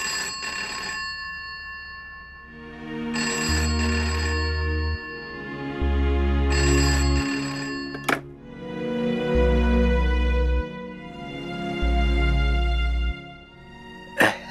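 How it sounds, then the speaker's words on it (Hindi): A landline telephone rings late at night, several loud electronic ring bursts repeating in a regular pattern with short pauses between them, heard alone indoors. "इतनी रात को क्यों फोन किया? वो भी लैंडलाइन पे किया"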